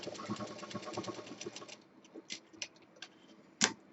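A sewing machine stitches a Rajasthani jhola bag with a steady, fast mechanical whirr. The running slows into scattered ticks and ends with one sharp click, all close and fairly quiet.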